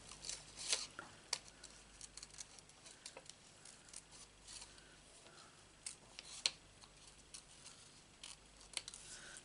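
Scissors snip roughly around a stamped paper image for a Stampin' Up card, a run of quiet close crisp cuts with small rustles and ticks, no talking.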